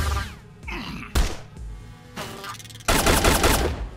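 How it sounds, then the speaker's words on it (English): Rifle fire in the video game Sword of the Stars: The Pit, several loud, sharp blasts in quick, uneven bursts with short gaps, ending in a longer, denser rattle of shots. "Fine, I'll use a rifle."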